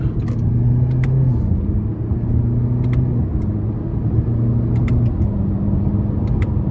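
A 2024 Toyota Corolla Hatchback SE with a manual gearbox pulls out of a corner, its engine droning loud and close from inside the cabin as the pitch climbs in steps under light throttle, with faint clicks and no voices.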